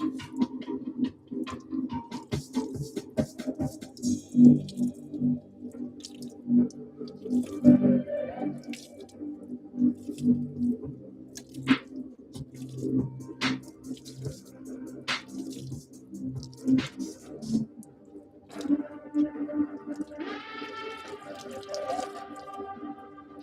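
Custom shoelaces are rinsed under running water, heard as intermittent splashing and drips with small knocks, up close and fairly quiet, while a person talks over parts of it.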